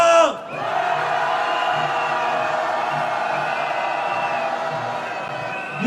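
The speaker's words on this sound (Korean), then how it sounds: "촛불 시민 함께 하자고 함성 한번 질러봅시다." Crowd at a candlelight protest march in Seoul letting out a long, sustained collective shout, loud and massed, rising after a brief lull and holding steady for several seconds.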